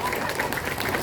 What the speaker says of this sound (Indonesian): Tepuk tangan dulu dong buat santri.